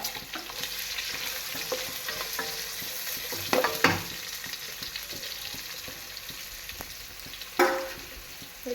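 Green chili, garlic, ginger, curry leaves and onion stir-fried in a pan for a Kerala cauliflower roast, a steady sizzle with scraping stirs and two louder clatters near the middle and end.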